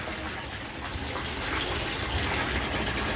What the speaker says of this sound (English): one should notice a huge amount of water coming out of the drain